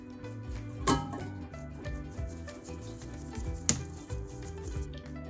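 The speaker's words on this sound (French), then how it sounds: "On vient ensuite tamiser la levure chimique, la farine et la pincée de sel." Baking powder, flour and a pinch of salt sifted through a sieve for a lemon-blackcurrant tart, giving a steady close scraping, rubbing rustle with a couple of sharper taps.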